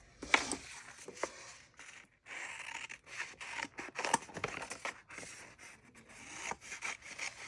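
Paper being trimmed for a creative journal, with repeated scissor cuts and rubbing, scraping strokes of the sheet in irregular bursts, close and clear, with no talking.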